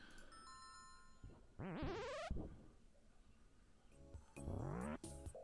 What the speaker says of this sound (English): Let's ring the doorbell, shall we?